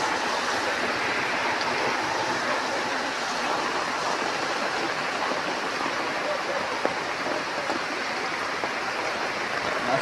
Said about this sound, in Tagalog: Matinding pagbaha ng tubig at matinding pagbugso ng ulan.